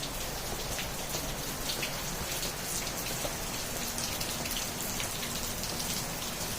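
Rain falls steadily outside, a close, even patter of drops hitting surfaces that continues without a break at moderate loudness, with no voices.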